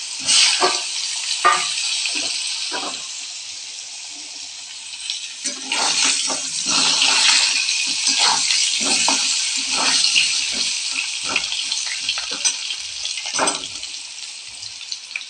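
A large potato, cut into pieces, fries in hot salted oil. A loud, steady hiss swells and fades, with scattered crackles and bubbling spits throughout, and no voice is heard.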